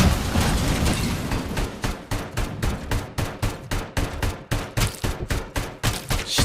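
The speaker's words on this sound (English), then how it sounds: "시체 존나 쏴" Gunfire in the video game Robocop: Rogue City: a long, steady series of loud, evenly spaced single shots, about three per second, pounding on alone with no talk.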